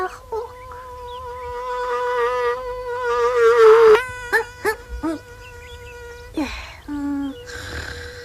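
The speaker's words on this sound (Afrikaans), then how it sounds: "Ek is Mossie Muskiet en ek hou daarvan om in almal se ore te gons." Mossie Muskiet, a cartoon mosquito, gives a high whining buzz that wavers and rises for several seconds. A series of short squeaky chirps and a few other brief cartoon noises follow.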